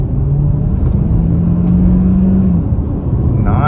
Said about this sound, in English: All right, guys, sport mode, no brake torque, just on the gas. Good torque, takes off.